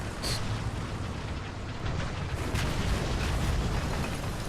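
Gunfire strikes a T-34 1942 tank in the War Thunder video game, producing muffled booming impacts and rumbling over a dense battle din, with sharper hits near the start and middle.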